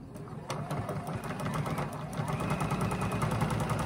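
A sewing machine stitches an eighth-inch seam along fabric for a pennant banner, a close rapid mechanical chatter that starts abruptly and runs steadily to the end.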